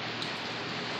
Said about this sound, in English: So I got caught out in the rain